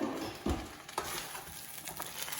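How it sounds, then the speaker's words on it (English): Spatula scraping and stirring breakfast burrito ingredients in a frying pan, with a few distinct scrapes early on over a steady low sizzle of cooking food, close by, no talking. "I'm gonna grab a spatula. I'm just gonna flip those around a little bit."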